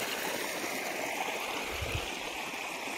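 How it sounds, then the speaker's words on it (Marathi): Water rushes steadily through a field irrigation channel on a farm in the evening, a constant close gurgling flow with no voices. "पाणी चालू आहे"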